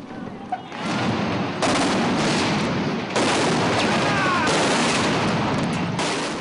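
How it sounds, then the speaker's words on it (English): Sustained automatic fire from 20mm guns rattles on without pause, a dense continuous barrage with brief shifts in intensity, fairly loud and close. "The 20mm guns have been blazing for half an hour without stopping."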